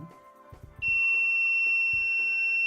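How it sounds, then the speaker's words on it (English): A temperature-sensing automatic door device gives one long, steady, high-pitched beep that holds to the end, preceded by a few soft mechanical clicks and thumps from the door. "there was a single long beep"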